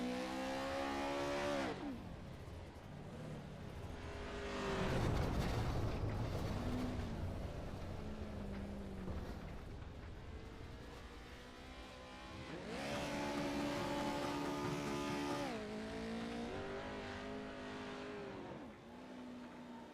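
Race cars in the iRacing video game cross the finish line, their engines roaring past in repeated surging, rising and falling waves of loud revving, with no talk over them.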